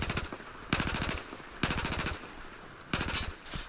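Rifle fire from Battlefield 4 in rapid three-round bursts, several sharp staccato groups spaced by short pauses, loud and close with no talking.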